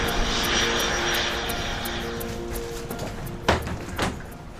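A small propeller aircraft lands on the beach runway at Barra with a steady engine drone that gradually fades, followed by a couple of sharp thumps and bumps near the end.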